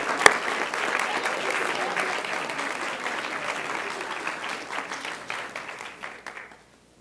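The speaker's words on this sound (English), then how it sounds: "please give her a nice round of applause" A school board meeting crowd gives a coach a warm round of applause, with dense, even clapping that holds steady for several seconds and then thins out and fades away.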